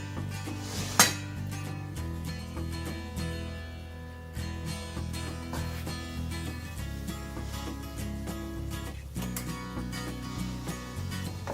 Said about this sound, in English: And then I'm going to scoop some stir fry on top.